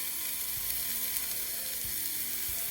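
Pork spring roll stuffing fries in a pan with a steady, close sizzle and a few soft low knocks as it is stirred, with no talking.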